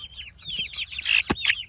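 Urban backyard chickens cluck in a chicken tractor, a busy run of short overlapping clucks and chirps at close range, with one sharp flap or knock near the end and no talk.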